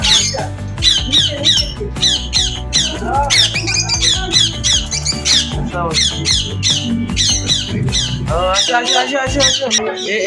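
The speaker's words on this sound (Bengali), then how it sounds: "ককাটেল" Caged cockatiels at a home bird farm let out loud, rapid squawks, several birds screeching close by in overlapping bursts throughout.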